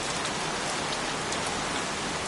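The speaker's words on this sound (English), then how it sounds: "Goddamn rain. Soaking wet." Steady, dense rain pours in the PS5 video game Heavy Rain, a close, even hiss with no voices over it.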